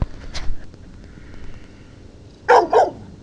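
A dog gives two quick, sharp barks close by near the end, after a single faint earlier bark, during an ice storm in Oklahoma City, with a quiet room murmur in between.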